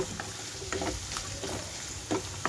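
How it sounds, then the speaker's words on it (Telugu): Chopped onions go into bitter gourd already frying for kakarakaya fry, giving a steady close sizzle with a few soft clatters and stirring scrapes, no voices. "ఇప్పుడు ఇందులోనే కట్ చేసి పెట్టుకున్న ఉల్లిపాయలు మొత్తం వేసేసుకుంటున్నాను."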